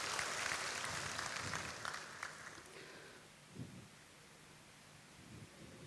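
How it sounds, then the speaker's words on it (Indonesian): Applause during a church service, a dense patter of clapping that is fairly faint and fades after a few seconds into a quieter room with scattered low thumps. "Beri tepuk tangan buat Tuhan."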